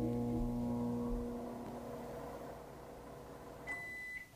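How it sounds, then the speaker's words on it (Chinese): A microwave oven runs with a steady humming drone that fades slightly, then ends with a short electronic beep near the finish, no talk. "我们就放到微波炉里面，我们先来打1分钟"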